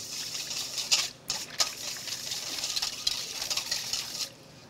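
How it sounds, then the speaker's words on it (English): Egg yolks and grapeseed oil are whisked together in a bowl for a buckwheat chiffon cake, a close, quick rhythmic clatter and patter of the whisk with brief pauses. "I'm going to whisk this together."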